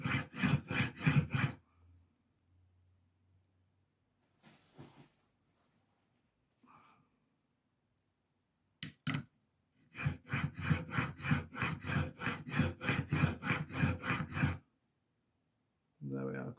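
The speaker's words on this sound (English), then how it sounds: "it won't take much on this coarse side. Just want to raise the burr." A chisel rubbed back and forth on the coarse side of a wetted sharpening stone, close and distinct rhythmic rasping strokes in short bursts, with a long quiet gap broken by faint handling sounds and a few brief stray noises.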